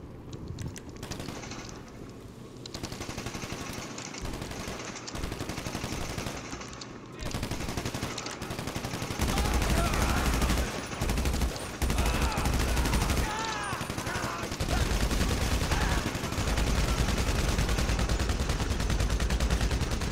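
Rapid gunfire from the video game GTA Online rattles in dense, continuous bursts, loud and close, building to sustained heavy fire through the second half.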